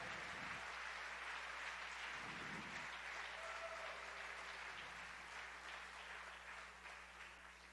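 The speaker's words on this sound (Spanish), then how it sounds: "Dale un aplauso al Señor." A church congregation applauds during a Spanish sermon, a broad wash of clapping at quiet volume with a low steady hum beneath, continuing evenly before slowly thinning.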